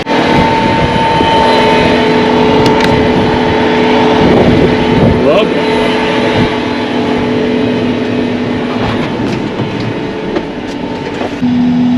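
A farm tractor engine runs continuously during field planting. It gives a loud, steady mechanical rumble with a faint humming drone, close by and unbroken for twelve seconds.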